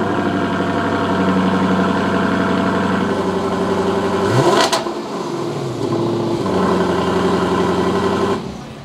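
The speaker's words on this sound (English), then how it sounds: "We're gonna show you a little cold start with this exhaust." A 2019 Lexus LC 500's V8 cold-starts and idles with a deep, throbbing exhaust burble, blips the throttle once, then settles back into a loud rumbling idle.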